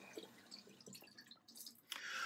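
Water drips and trickles faintly while the face is wetted before shaving, a few soft splashes ending in a steadier running stream near the close.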